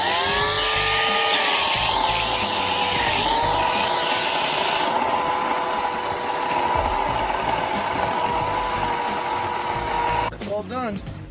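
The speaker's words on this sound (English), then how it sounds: "we'll cut this up real quick" Portland 14-inch electric chainsaw cutting up a tree, a loud high-pitched motor whine rising and dipping under load as the chain bites, running steadily for about ten seconds before winding down abruptly at the end.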